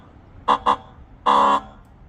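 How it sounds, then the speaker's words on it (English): A loud, close Tesla Cybertruck horn: two short blasts followed by one longer honk, with a faint hum in the background. "let's hear the new updated Cybertruck horn."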